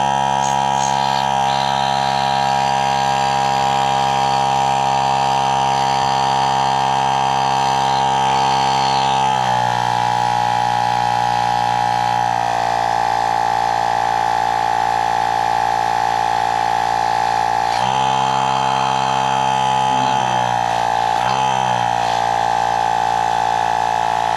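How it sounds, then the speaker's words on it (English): A small electric air pump runs steadily beside a Honda Goldwing to pressurize its front brake calipers, giving a continuous buzzing drone that shifts pitch a few times as the load changes. "So now I'm going to pressurize this. Got this awesome little pump right here."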